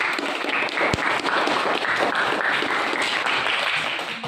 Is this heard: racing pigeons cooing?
no